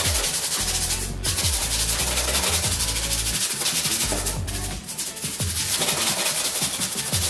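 Shoes scrubbed with a brush and toothpaste, loud close rhythmic rasping strokes in fast repeated bursts with a brief pause near the middle, no talk.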